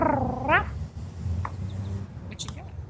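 A woman imitates a cat with her voice, making a close, rising meow-like cry followed by softer purring and chirping sounds over low background noise.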